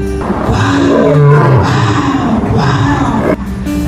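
An angry lion roars loudly and close, a deep sustained growling roar that rises and falls over a few seconds, with a brief break near the end.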